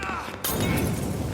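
A Molotov cocktail shattering in Mafia: Definitive Edition, a sudden sharp crash of breaking glass followed by a loud rushing burst of noise amid combat.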